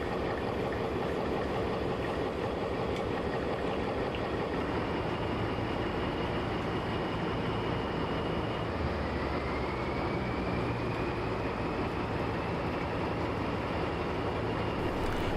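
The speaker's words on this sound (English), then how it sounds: "Starting with the Class 15 and a rather heavy unfitted mineral train with just 3 wagons as a fitted head." Heljan model Class 15 diesel locomotive hauling a heavy unfitted mineral train, a steady continuous engine drone and rolling rumble at constant level with no talking.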